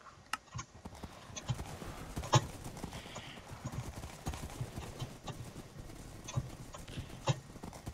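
Horse hooves clip-clop steadily through a Minecraft horse-riding arcade minigame, a quick, even patter of hoofbeats at moderate volume with occasional sharper knocks and no talking over them.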